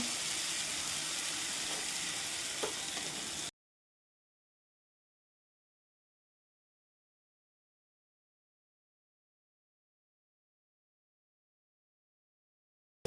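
Water splashes into a pan of fish curry with a steady rushing hiss for about three seconds, then stops abruptly into silence.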